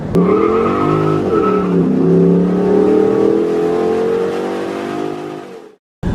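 A 2007 Dodge Charger SRT8 engine revs loudly and close for several seconds, its pitch rising and falling, before it cuts off abruptly near the end.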